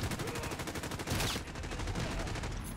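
X16 pistol hipfire from Call of Duty Modern Warfare, a run of fast gunshots close and loud, mixed into dense game noise with a brief sharper burst in the middle.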